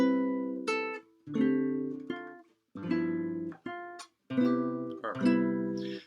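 A short melody played in slow half notes, each tone sustained and clearly separated by brief gaps, several pitched notes in steady succession with a clean, tuned timbre, heard alone without talking.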